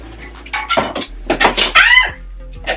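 Cutlery and dishes clinking and clattering as someone rummages through a kitchen drawer for a knife, several bursts of metallic rattling close by with brief pauses.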